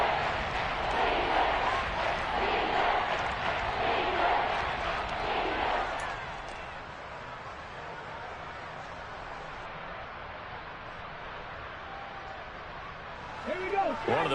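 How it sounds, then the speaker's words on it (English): A stadium crowd in a football video game roars in a broad, steady swell for about six seconds, then fades to a low murmur while a commentator talks over it. "the crowd getting into it as we come up on a big 3rd down"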